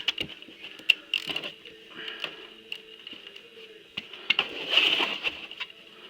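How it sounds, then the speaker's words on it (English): A wrench works the centre oil drain bolt on a warm 650 Triumph Bonneville's oil tank, giving a run of sharp metallic clicks and ratcheting taps with a few heavier clunks, close and fairly quiet, with no talking. "I'm going to undo the centre bolt in the oil drain tank."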